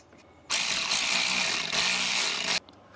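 A power tool whirs as it drives a 14 mm nut onto the bracket of a Parkside PSKO 24 B2 oil-free 24-litre 1.5 kW compressor, one steady two-second burst, loud and close, starting and stopping abruptly.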